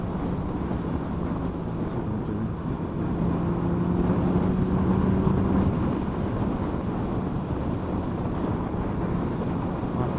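Steady roaring wind rushes past a rider tucked down on a Honda CBR650F motorcycle, a constant broadband buffet with a faint engine drone beneath it and no voices.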